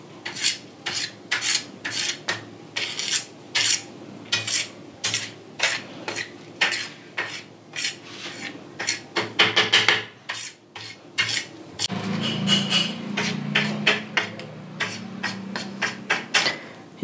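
A spoon mixes rock salt with other powders in a small container, producing rapid gritty scraping strokes in quick bursts, close and crisp, with a brief duller grinding passage near the end.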